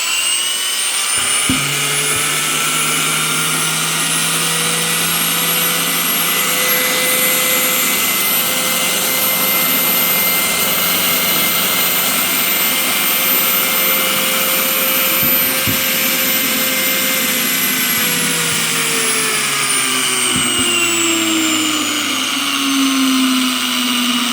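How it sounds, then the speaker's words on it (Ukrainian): A Procraft PW2700 brushless angle grinder runs continuously at high speed, a loud, steady whine with a slight drop in pitch toward the end. "Працює вона дуже класно, м'ягко, тихо порівняння з чітковими болгарками."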